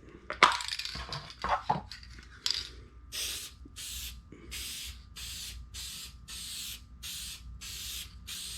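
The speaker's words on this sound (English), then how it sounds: "just spray the pieces that will be shown" Aerosol protective finish sprayed onto laser-engraved wooden keychain holder pieces, starting with a few clattering handling knocks, then a steady series of about eight short, evenly spaced hissing bursts close by.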